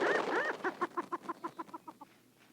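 A wild prairie chicken gives a rapid series of about a dozen short, evenly spaced clucks after a brief squawking call, the notes fading and slowing slightly toward the end, heard close and alone.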